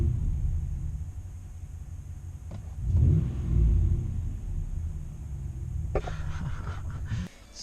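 A pickup truck with its mechanical fan removed idles and revs, a low rumbling exhaust swelling into two throaty revs before settling back to a steady idle, close and loud.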